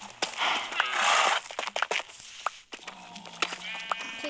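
A goat bleats loudly up close in Minecraft, followed by scattered clicks and soft crackles with a faint electronic tone.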